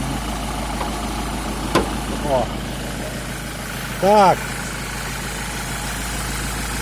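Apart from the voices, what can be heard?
diesel van engine idling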